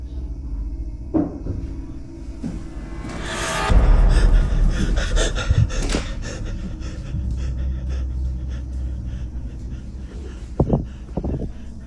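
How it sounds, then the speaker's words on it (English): Near the mic, someone gasps sharply in panic and pants heavily while scrambling, with thumps and rustling underneath and a few more sharp breaths near the end. "the person filming gasps and scrambles backward in a panic"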